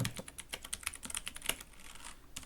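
Python code is typed on a computer keyboard as a quick, uneven run of light key clicks, close and fairly quiet, with no talking.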